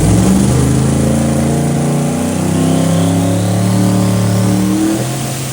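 A roughly 5,000-horsepower car engine screams at full throttle on a hub dyno, loud and sustained, with its pitch climbing steadily through a long pull before easing slightly at the end.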